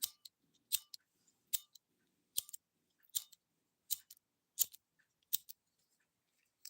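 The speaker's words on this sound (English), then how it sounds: "You don't hear lighters clicking?" Lighter clicking at night outdoors, a sharp snappy click repeated about every 0.8 seconds in a steady rhythm, close and crisp against near silence.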